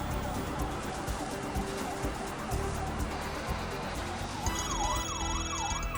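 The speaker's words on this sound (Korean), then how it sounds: "출동하는 소방차 사이렌 소리가 중랑천에 울려 퍼지고 있습니다" A fire truck siren wails at night near the Jungnangcheon stream, its rising and falling tone cycling over a steady background rumble before swelling louder toward the end.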